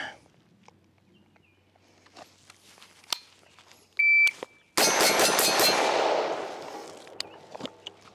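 Break-action shotgun fired during a five-round bill drill on a range, with a timer beep and a sharp blast, then a long decaying report, mechanical clanks and shuffling around it.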